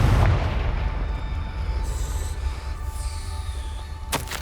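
A Confringo fire spell in the video game Hogwarts Legacy goes off with a heavy booming blast at the start, then a rumble that fades out, ending in a short sharp crack.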